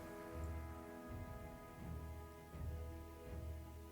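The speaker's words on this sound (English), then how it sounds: "I hope you can't hear the rain outside, because I can hear it. That's some heavy rain." Heavy rain falls outside in a faint, steady wash heard from indoors, with soft low rumbling swells that come and go.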